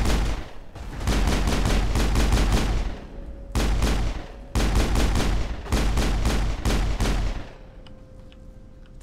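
Gunfire in the Mass Effect 1 video game: loud rapid bursts of automatic shots in four or five volleys separated by short pauses, close and dominant, with no speech.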